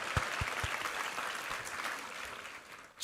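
A church congregation claps during a Sunday service, a soft steady patter of applause from the crowd that fades toward the end.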